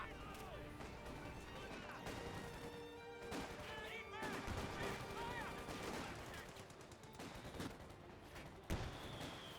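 Mortar pit fire and battle noise in Company of Heroes 2 sound as scattered booms and gunfire bursts over a dense, mid-level wartime din, with a sharper blast near the end.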